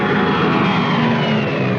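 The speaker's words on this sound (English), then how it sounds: "Weather planes such as this Mosquito" A de Havilland Mosquito weather plane drones in flight with a loud, steady, close engine roar that stays constant throughout.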